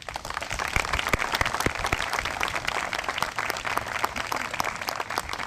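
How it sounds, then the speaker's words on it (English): Audience applause at the opening ceremony of the Giralda Farms Preserve, a steady wash of many hands clapping at a moderate distance, sustained evenly for several seconds with no voices over it. "I think we deserve a round of applause to those who put it together."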